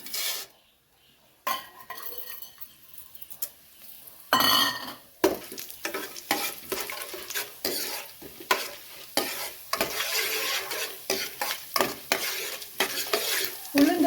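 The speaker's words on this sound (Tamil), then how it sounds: "ஒரு கடாயில் ஆயில் ஊற்றிக்கலாம் ஆயில் சூடானோடனே உளுந்து போட்டுக்கலாம்" Urad dal fries in hot oil in a kadai, a crackling sizzle broken by repeated scraping stirs and spoon clinks against the metal pan, after a brief quiet start.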